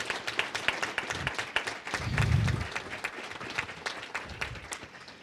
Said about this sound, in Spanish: Entonces quisiera pedir un aplauso para todos las colegas.